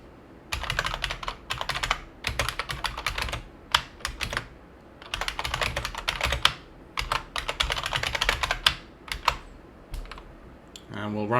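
Bursts of rapid clicking keystrokes on a computer keyboard while a command is entered at a Windows command prompt, close and fairly clear, in several runs separated by short pauses.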